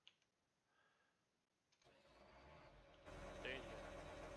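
A tractor engine cranks and starts in a farming simulator game set in Thuringia, a short quiet stretch followed by a rising mechanical rumble that settles into a steady run.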